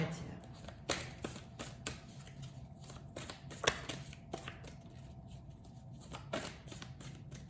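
A deck of tarot-style cards shuffled by hand, soft repeated riffling and tapping bursts at irregular intervals, fairly quiet with a voice speaking over it.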